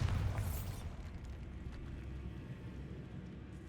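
A Bombarda spell explosion in the video game Hogwarts Legacy, set in a decaying catacomb: a single deep boom with a sharp burst at the start, decaying into a low rumbling tail.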